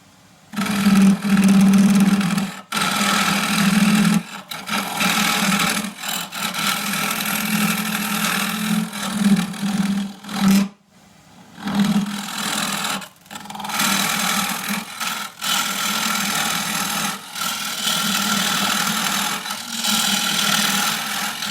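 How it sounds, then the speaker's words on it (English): An oak box spins on a wood lathe as a 3/4 inch square scraper cuts it, giving a loud steady motor hum with rasping scrapes that surge and pause in repeated bursts, no talk. "The rest is going to be done, or a lot of it, with the 3/4 inch square and scraper."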